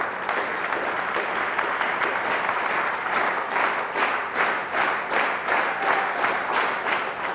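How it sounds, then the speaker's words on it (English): Applause from an audience at a talk starts as scattered clapping and settles into a steady, synchronized rhythm of loud, evenly spaced collective claps that continues throughout. "when I say clap together, which I mean synchronously, just clap together."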